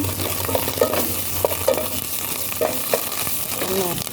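Dry lemon, cinnamon stick, cloves and cardamom fry in oil in a pan for Arabian saluna fish, a steady sizzle broken by light crackles and clinks of stirring, close and moderately loud with no speech.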